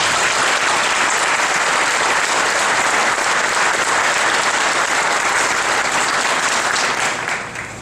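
An audience applauds at a naval training graduation ceremony, a dense, loud, sustained wash of clapping from many hands that fades slightly at the very end.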